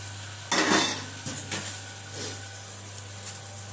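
Mutton curry ingredients are stirred in a metal pot, with a few distinct scraping strokes and clinks of a spoon against the pot over a low steady hum, close and clear.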